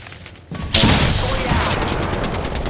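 A rapid burst of gunfire in a video game erupts after a short lead-in, settling into a dense, continuous rattle of shots with battle noise that fills the whole stretch.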